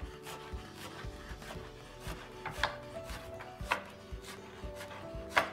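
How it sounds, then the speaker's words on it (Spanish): A knife chops onion into small squares on a board for a burger-taco dish, giving a run of irregular, close, crisp taps with a few sharper hits, set against a steady tonal background. "cortamos la cebolla primero en palitos y ahora la vamos a cortar así en cuadraditos pequeños"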